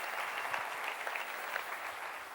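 A church congregation claps and cheers in a dense, steady burst of applause that fills the room for a couple of seconds.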